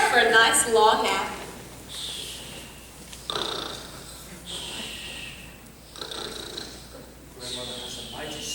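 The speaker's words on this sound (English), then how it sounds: "Grandmother has a mighty snore." Loud, rasping snores repeat in a slow, steady rhythm, each drawn-out breath close and heavy, with a brief burst of voice at the very start, from a stage performance of Into the Woods Jr.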